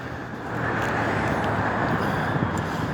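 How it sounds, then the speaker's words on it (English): Busy road traffic with many cars passing, a dense continuous roadway roar that swells after a brief quieter start, close and loud. "Look at the amount of cars."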